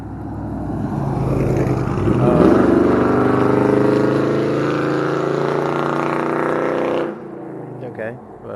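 Indian Challenger motorcycle engine revving loudly and steadily for about seven seconds, pitch swelling then holding, before dropping to a low idle, with nobody talking.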